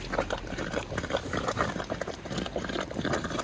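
Hot spring water boiling hard in the Niti valley, Uttarakhand, on a rainy day, a steady close churn of bubbling and gurgling with no voices over it.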